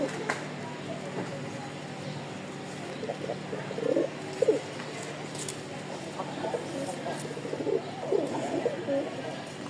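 Giribaz pigeons, a white pair among a loft of birds kept for breeding, coo in soft repeated bursts throughout, with a steady low hum and occasional clucking-like calls from nearby birds.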